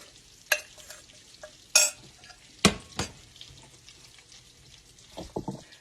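Sparse clinks and scrapes of a utensil against a pan stand out over a faint background sizzle as a meat mixture for steak gravy is pulled apart in hot fat.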